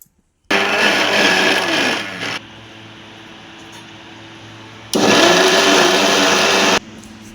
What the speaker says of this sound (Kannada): ಮಿಕ್ಸಿ ರುಬ್ಕೊಳ್ಳೋದು.